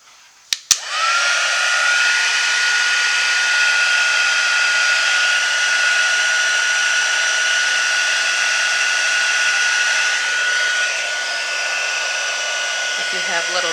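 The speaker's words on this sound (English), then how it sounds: "we will use the heat tool to dry that," A heat tool drying watercolor paint on a card gives a loud, steady whirring blow with a high whine, starting after a couple of clicks and running unbroken throughout.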